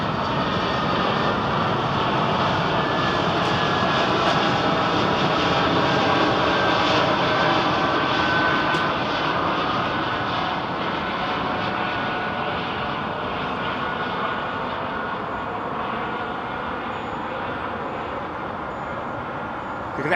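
An airliner departs London Heathrow in a loud, steady, broadband engine roar that holds for the whole stretch and swells slightly midway.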